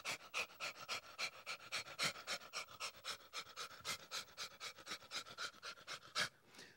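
A person mimics a dog panting, producing rapid, rhythmic breathy huffs repeated steadily at close range for several seconds, with no other voices.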